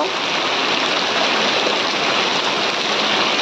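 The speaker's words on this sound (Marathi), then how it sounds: "पाऊस तर वाढता जोरातच लागता" Heavy monsoon rain pours down in a dense, constant hiss in a Konkan village, loud and close, with no voices or pauses.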